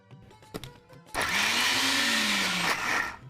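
Kitchen mixer grinder crushing dal with garlic and salt for chutney, a loud, close motor whine that starts abruptly after a few light clicks and runs steadily for about two seconds.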